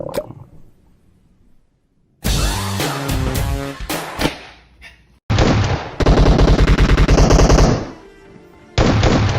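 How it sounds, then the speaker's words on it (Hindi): Shotgun shots and other gunfire ring out in a battle royale video game as loud, sharp blasts and rapid bursts that come in several dense clusters with brief quiet gaps between them. "पहली बार में 2 शॉट देके उसको डैमेज किया, लेकिन भाई दूसरी बार जो उसको जाके नॉक कर दिया।"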